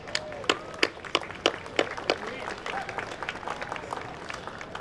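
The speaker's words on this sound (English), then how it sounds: "please, with a round of applause." Round of applause at a university Founders' Day anniversary celebration, a modest crowd clapping with distinct close claps early on that settle into softer, thinning applause, with some voices faintly underneath.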